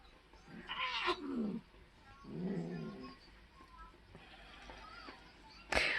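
A cat growls and yowls in several low, drawn-out bursts with quiet gaps between, fairly close, ending in a sharp loud cry.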